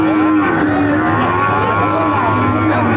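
A cow lowing at a busy cattle market where meat-type dairy cows are being sold, a long, loud, steady drawn-out moo that holds for several seconds against a constant crowd hum.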